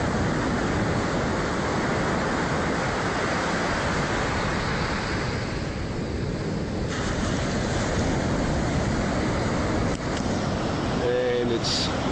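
Ocean waves wash far below, a loud continuous roar of surf mixed with strong wind buffeting the microphone, steady throughout with no talk.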